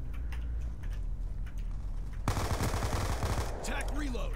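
Gunfire from shooting in Black Ops 2, played on PC. A quick automatic burst lasts about a second, mid-level over steady game background noise.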